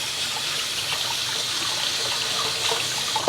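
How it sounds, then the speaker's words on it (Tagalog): Parsley washed under a running tap, a steady close hiss of flowing water with faint splashes and soft handling sounds, without talk. "Hugasan pa natin mabuti."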